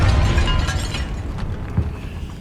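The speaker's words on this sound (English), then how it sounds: "Confringo!" A Confringo spell blast in the game Hogwarts Legacy, set inside a tomb: a loud rumbling explosion right at the start that decays into a fading roar.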